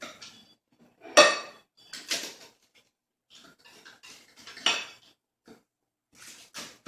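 Crispy tortilla pizza being cut in a kitchen, a few sharp crunchy cracks and scrapes spaced out over several seconds, close and fairly quiet with gaps of near silence between them.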